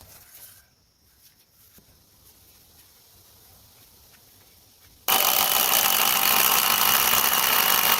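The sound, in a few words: drill machine securing wood to base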